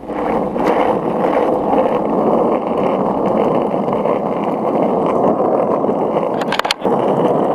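Skateboard wheels rolling over pavement during a ride, a steady loud gritty rumble with some wind noise, broken near the end by a sharp clack and a brief drop in the roll.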